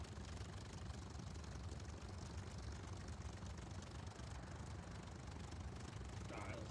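A P-40 aircraft engine idling just after startup in War Thunder, a dense, steady low rumble that holds at an even, fairly quiet level throughout.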